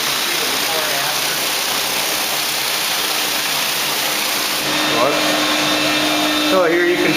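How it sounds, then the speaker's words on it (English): A surface cleaner run back and forth over bathroom tile makes a loud, continuous rushing whoosh of spraying water and motor drone, close up, with a faint voice underneath. "we just run the surface cleaner back and forth"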